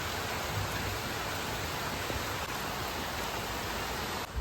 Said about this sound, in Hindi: ज़ोरों शोरों का बारिश हो रहा है।